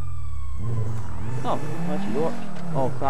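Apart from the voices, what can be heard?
police car siren in the video game GTA Online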